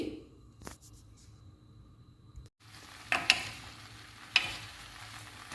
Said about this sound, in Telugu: ఒక స్పూను ఆయిల్ వేస్తున్నాను లైట్గా వేయించుకుంటే సరిపోతుందండి